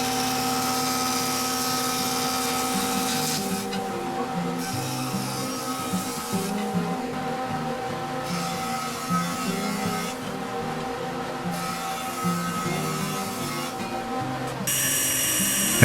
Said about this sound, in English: I square all the edges up on the joiner.